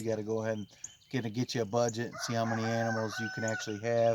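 A free-range rooster crows in the background on a homestead while someone talks steadily over it, the crow partly buried beneath his voice.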